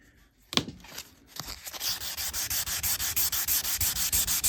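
Stainless steel car trim is sanded by hand before buffing, a few scattered knocks giving way to a steady run of rhythmic, rasping back-and-forth strokes up close.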